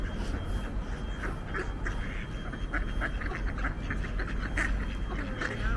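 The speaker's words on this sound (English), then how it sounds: "Ducks are here." Ducks quack repeatedly by a river in Ripon, North Yorkshire, the calls moderately near and steady over a constant outdoor wash of flowing water and ambient noise.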